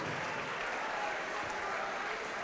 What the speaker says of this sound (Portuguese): aplaude e diga: Santo, Santo, Santo é o Senhor dos exércitos